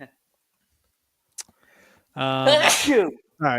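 A single sharp human sneeze, loud and close, followed by a person speaking right after it.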